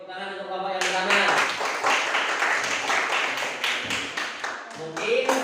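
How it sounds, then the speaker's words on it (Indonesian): Applause and clapping for the first discussion group in a Ramadan-themed classroom lesson, a dense patter of many hands that follows a teacher's brief voice and continues steadily at close range. "Tepuk tangan untuk kelompok yang pertama"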